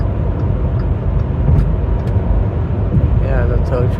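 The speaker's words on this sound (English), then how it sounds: "Oh, it's just a tow truck, is it?" A tow truck drives past on the road, a steady engine rumble and tire roar that swells slightly, while people talk over it close by.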